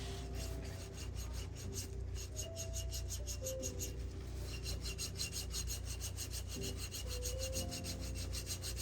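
Coarse side of a foot file scraping dry skin in a pedicure, quick rhythmic rasping strokes repeating steadily, close and fairly quiet with a faint background hum.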